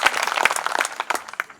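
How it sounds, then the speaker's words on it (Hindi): Scattered applause at a university open mic event, uneven individual claps rising and falling for about a second and a half, fairly close and moderately loud. "और दूसरी ताली हमारे ड्रामा क्लब के तमाम बच्चों के लिए।"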